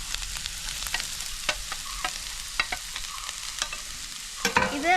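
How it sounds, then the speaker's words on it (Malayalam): Carrots and onion fry in coconut oil in a pan, giving a steady sizzle with scattered crackles and pops and the scrape of stirring, close and without talk. "വെളിച്ചെണ്ണ ആവശ്യത്തിന് ഒഴിച്ചു കൊടുത്തിട്ടുണ്ട് ഇത് ചൂടായി വരുമ്പോൾ നമുക്ക് ഇതിനകത്തേക്ക് നമ്മളെ ക്യാരറ്റ് ഇട്ട് കൊടുക്കാം"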